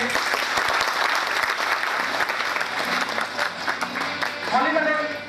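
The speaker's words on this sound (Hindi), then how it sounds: "ताली बजाओ उनके लिए" A room of training-session attendees claps for a speaker, sustained close applause with some sharp individual claps at the start and voices emerging over it near the end.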